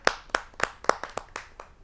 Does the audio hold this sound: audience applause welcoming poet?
yes